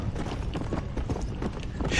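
Horse hooves gallop at a fast, steady pace in the video game Red Dead Redemption Undead Nightmare, a continuous close drumming of clip-clops over game ambience, with no talk during the run.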